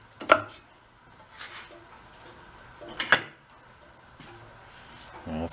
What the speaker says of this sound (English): give her a whack with a hammer